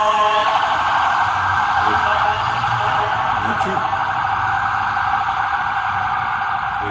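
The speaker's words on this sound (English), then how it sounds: "you got the ambulances now, riding by" An ambulance siren wails loud and sustained on a street, its steady tone holding throughout as it passes by, with faint traffic noise underneath.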